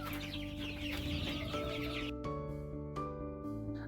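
Young kienyeji chickens cluck and chirp in a steady, close flurry of overlapping calls, with a busy farmyard background that drops away partway through while the clucking goes on.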